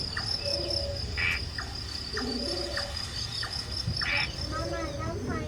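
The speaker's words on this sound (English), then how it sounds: "All set against a chorus of crickets." Crickets chirp in a dense, continuous chorus in a forest at night, with a shrill, steady high trill overhead and scattered nearer insect or frog calls popping in and out over a low outdoor hum.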